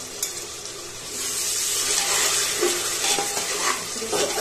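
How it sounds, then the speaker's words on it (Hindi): Onions sizzle and fry in a pressure cooker for Bengali mutton curry, a steady crackling hiss that grows louder as they are stirred. "प्याज को इस पॉइंट तक आपको फ्राई करना है, देख लीजिए।"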